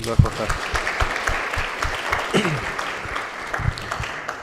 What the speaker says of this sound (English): Can we just get a round of applause for Dr. Sohail, please?